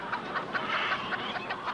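Factory-farm chickens raised indoors in an industrial poultry plant, a dense flock clucking and chattering close by in quick repeated bursts, with no voices over it.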